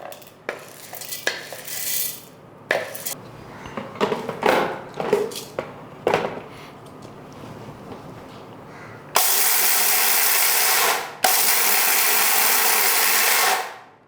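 An electric mixer grinder grinds roasted lentils for Andhra-style gun powder podi, first with scattered clinks and rattles, then two loud steady bursts of high whirring near the end.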